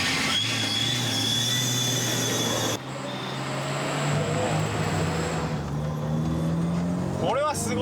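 A Toyota AE86 converted to electric power accelerates, its motor giving a steady rising whine over road and wind noise, with the tone shifting partway through as the car keeps pulling.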